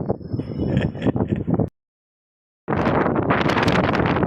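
Steady wind buffeting the microphone, loud and rushing, broken by about a second of silence before the gusting roar resumes.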